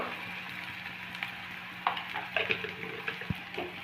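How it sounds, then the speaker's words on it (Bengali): Onion frying in a pan for an egg curry, a low steady sizzle with scattered clinks and scraping taps of a utensil against the pan. "পেঁয়াজটা আমরা প্রথমে ভেজে নেব"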